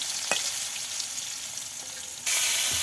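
Fish coated in turmeric, salt and chili sizzles in a pan over a village kitchen fire, a close, steady crackling frying sound with brief stirring clicks and a louder burst near the end.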